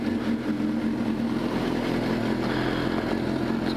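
Motorcycle converted to GP shift pulling away on a ride, a steady loud engine drone with a rising buzzy tone heard close up from the bike, without any talking.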